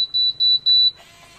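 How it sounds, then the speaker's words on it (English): An automatic hair curler gives a high electronic beep three times in steady succession, loud and close, followed by a soft mechanical whir. "and then you wait 12 seconds, and then it beeps again."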